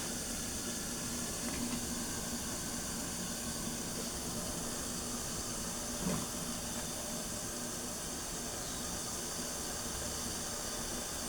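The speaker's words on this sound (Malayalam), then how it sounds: "വെള്ളമൊക്കെ തിളച്ചിട്ടുണ്ട്." Water boiling in a pot for steaming ila ada, a steady low bubbling hiss with a constant rush throughout and a faint clink near the middle, no voices.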